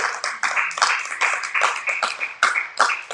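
A church congregation claps together during a Spanish-language sermon, a dense run of sharp hand claps with a loose, uneven rhythm throughout, close and fairly loud with no voices over it.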